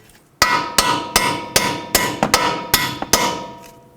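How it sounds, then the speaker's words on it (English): Bolts being hammered through the front axle assembly of a 2007-2009 Saturn Aura: eight sharp metallic blows in a fairly even rhythm, loud and close, with no talk. "then I'll drive the bolts through"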